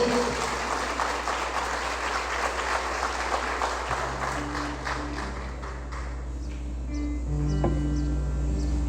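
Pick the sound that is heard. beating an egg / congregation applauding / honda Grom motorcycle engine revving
congregation applauding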